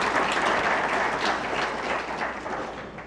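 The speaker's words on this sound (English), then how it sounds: "So give them a round of applause." A steady round of applause fills a memorial service, many hands clapping together at a sustained, even level before slowly tapering off.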